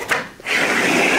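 A long storage drawer in a fitted-out van slides open, a brief wooden knock followed by a smooth, close rolling rub that runs on to the end.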